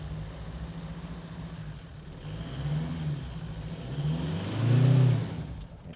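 A 2024 Toyota HiLux hybrid pulls away from a stop on a hill, its engine note rising gradually to a louder surge near the end, moderately quiet and heard from inside the cabin.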